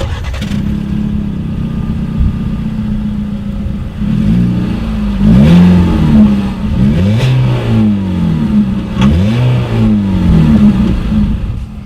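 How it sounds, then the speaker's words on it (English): A 2018 Ford EcoSport engine idles with a steady low rumble through a single exhaust outlet, then revs repeatedly, the exhaust rising and falling in several loud throttle blips. "here is that exhaust clip"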